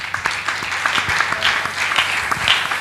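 Church congregation applauding steadily, a dense, continuous burst of many hands clapping that fills the whole moment.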